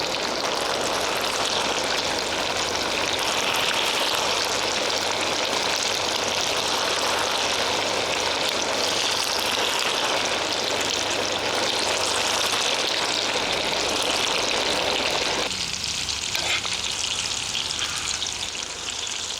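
Breadcrumb-coated fish fingers made from freshly caught fish frying in hot oil, a loud, dense, continuous sizzle close up that eases slightly near the end.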